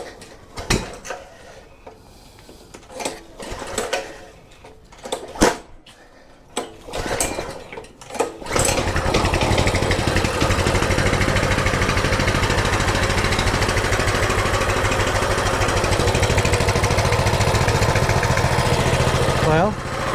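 After several clanks and rattles of handling, a small hydro-locked mini bike engine with the choke on catches and runs at a loud, steady buzzing idle for the rest of the stretch.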